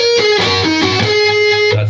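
An electric guitar plays part of a solo, a loud, distorted run of sustained, bending notes, close and alone.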